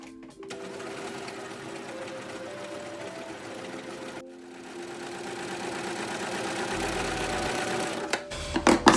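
Sewing machine stitching scuba fabric for a dress with a long stitch length, running in a steady mechanical whir in two continuous passes split by a brief pause, close and clear.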